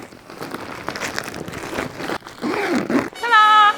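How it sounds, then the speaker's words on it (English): A zipper drawn shut along an IKEA bag, several quick rasping pulls close by, ending in a longer buzzing zip. "Now it is time to close this bag up."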